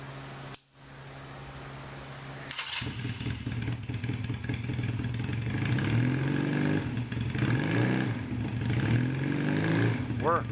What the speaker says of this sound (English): everybody bugs me to start the bike so they can hear the exhaust on these things, so Tara's going to fire it up for you.